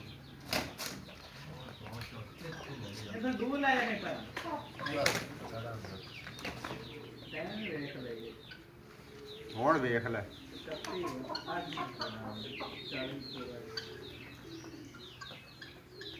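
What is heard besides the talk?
roosters fighting, flapping and clucking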